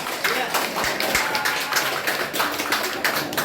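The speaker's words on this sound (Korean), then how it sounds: "우리 현재수 팀에 큰 박수 한번 부탁니다" Members at a park golf club inauguration ceremony clap for the team in a pulsing, slightly rhythmic burst of hands, fairly close, with voices talking over it.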